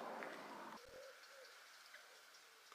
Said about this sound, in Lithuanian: Kažkokie paukščiai sujudo viduj.